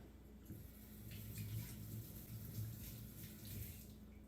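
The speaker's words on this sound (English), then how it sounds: "So I'm going to rinse this onion off." A red onion is rinsed under running water from a kitchen tap, a steady splashing stream that swells slightly as the onion is turned in the flow, close and fairly quiet, with no talk.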